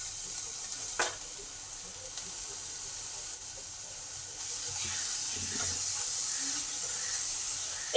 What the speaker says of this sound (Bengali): সেই বাটা মশলা দিয়ে দিলাম।